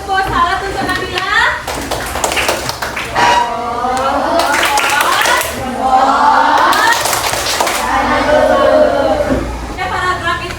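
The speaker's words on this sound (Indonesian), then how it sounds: "Kalau benar beri tepuk salat untuk Nabila." Primary school class of children doing a rhythmic chant-and-clap cheer for a classmate, with voices chanting loudly in unison and hand claps throughout.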